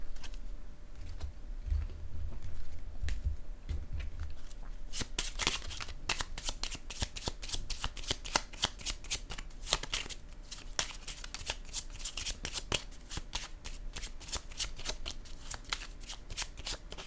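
Tarot cards are shuffled by hand in a steady run of quick, crisp riffling and flicking, close and clear, following a few seconds of softer handling.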